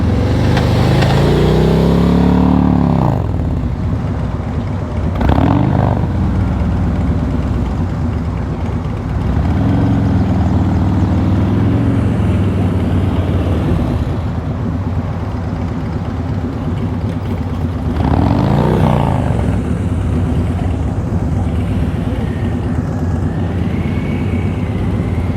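Motorcycle slow-speed riding practice in Knoxville, Tennessee: a nearby motorcycle engine idles and putters at low revs, with several rising and falling throttle blips as the rider works through tight turns, steady over the whole stretch without speech.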